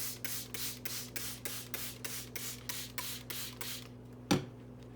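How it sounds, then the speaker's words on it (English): A handheld spray bottle mists water onto marker-colored paper in a quick run of about a dozen short, even spritzes, close and clear, ending with a single soft knock. "So then you're just going to spray them."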